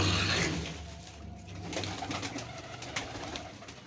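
Giribaz pigeons from Rajshahi, including a crossbred bird, coo and rustle close by, with low repeated throaty calls and occasional wing flutters and clicks.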